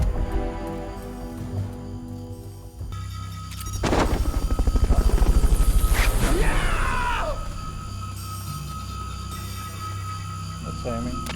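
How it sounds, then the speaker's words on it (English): Helicopter from Metal Gear Solid: Peace Walker during a Fulton recovery, a loud swelling rotor and engine roar building mid-clip then easing off, with game sound effects and voices around it. "Fulton recovery subject confirmed onboard helicopter."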